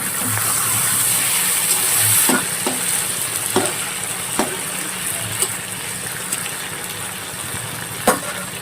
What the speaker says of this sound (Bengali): ঢাকনাটা খুলে সবজি নেড়ে নেবো।